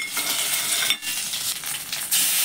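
Fish drops into a sizzling tempering of mustard seeds and dry red chili in hot oil for a tangy Bengali fish dish, giving a loud, close, continuous hiss with brief dips and stirring clatter.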